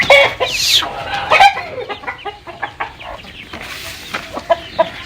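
A turkey hen and chickens cluck close by, starting loud and busy, then settling into scattered, irregular clucks.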